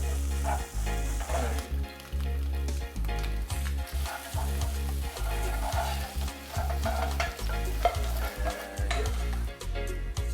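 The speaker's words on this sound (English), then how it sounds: "we're gonna get our tortillas crisped up right in the same pan" Tortillas crisping in a frying pan with leftover chorizo fat, a loud steady sizzle broken by repeated scraping and flipping sounds close up.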